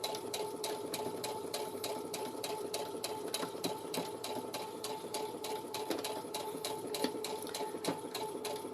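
Sewing machine stitching a seam on a girl's dress, a fast steady rhythmic clatter of the needle running continuously, fairly faint and close, with no talk.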